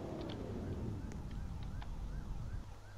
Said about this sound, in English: Is that your siren that's still on in the distance?